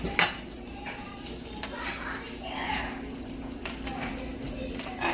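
Garlic fries in a pan for bacon sausage gravy, giving a close, steady sizzle with occasional light clinks and scrapes of stirring.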